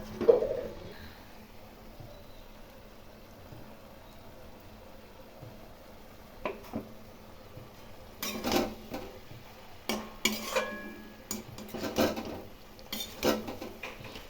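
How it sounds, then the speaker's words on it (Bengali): A spoon scrapes and clinks against a pot while a thick vegetable curry of drumstick flowers and leaves, with sesame and poppy seed paste, is stirred. A quiet start gives way to bursts of clatter in the second half. "এখন খুব ভালো করে নেড়ে দেব।"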